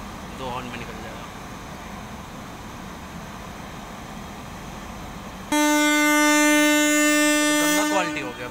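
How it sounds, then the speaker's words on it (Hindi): After several seconds of rumbling background noise at Bijwasan railway station, a loud, sustained train horn blares for about three seconds, close by. "दो हॉर्न मार दिया है, तीसरे हॉर्न पे पास"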